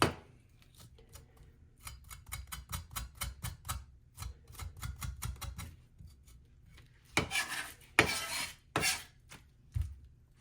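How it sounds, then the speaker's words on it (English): A knife chops through a pineapple to cut away a soft, overripe spot, giving a run of quick, close rhythmic taps on a cutting board followed by a few sharper scraping cuts, with no talking. "I'm going to go ahead and chop off that soft spot so we don't eat it."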